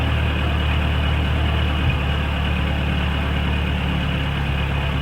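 A diesel engine with a rebuilt fuel injection pump idles steadily, a continuous low rumbling drone with a slight dip in pitch partway through, heard close and fairly loud with no talking.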